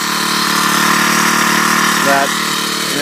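A Troy-Bilt 4-cycle string trimmer engine with a blower attachment runs steadily at close range, a loud continuous buzzing drone with a brief pitch rise near the end.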